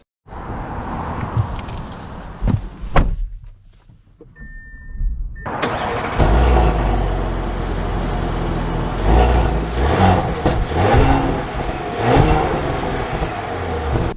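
A 2024 Audi Q7 starts up after a few clicks and a brief quiet, the engine catching with a loud surge and then settling into a steady, smooth idle heard from inside the cabin.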